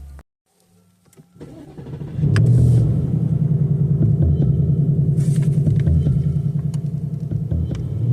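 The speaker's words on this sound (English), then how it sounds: "Listen to this motor." A Ford Mustang engine cranks and fires up after a brief quiet, then settles into a loud, throaty, close idle with a deep steady rumble and a few revs.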